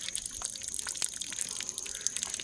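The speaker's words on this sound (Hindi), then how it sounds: "गर्म पानी से नाक स्नान करा रहे हैं।" Warm water trickling and dripping during a jal neti nasal rinse at a public yoga day gathering, a soft continuous splashing with small drips, close and fairly quiet.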